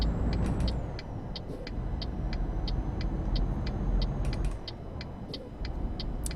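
A Mercedes Actros truck in Euro Truck Simulator 2 rumbles steadily with a low engine drone while a regular, evenly spaced ticking like an indicator clicks over it, no voices heard.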